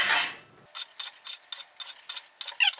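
Kitchen knives are drawn through a knife sharpener in a quick series of about eight crisp, rasping swipes, evenly spaced and close, after a brief opening scrape.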